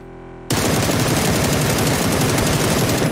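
Sustained automatic gunfire in PUBG, a player unloading on a coupe in a drive-by: after a brief quiet start, a loud, rapid, unbroken burst of close shots continues to the end, with no talking.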